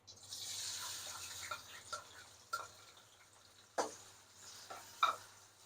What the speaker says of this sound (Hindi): 2 दरमियानी प्याज लिए मैंने, इनको ब्राउन करेंगे।